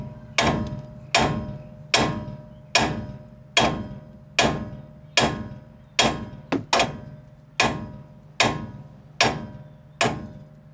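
A hammer strikes the front ball joint of a 2004 Dodge Ram 3500 4x4 with about a dozen sharp metallic blows at a steady, roughly one-per-second rhythm. Close and loud, each hit rings briefly, with no talking.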